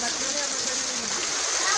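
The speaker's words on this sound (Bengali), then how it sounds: "এত বৃষ্টি, প্রচুর বৃষ্টি" Heavy monsoon rain pours down during flooding in Chattogram, a steady close hiss of water with a person talking over it.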